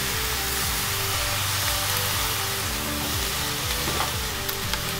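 Ox cheeks go back into a hot Dutch oven and sear in a loud, dense, continuous sizzle that holds steady throughout, close by, with a low repeating hum underneath and no voices.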